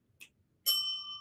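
A children's audiobook page-turn bell gives one bright, ringing ding that sustains and slowly fades after a faint soft tap, heard alone and close.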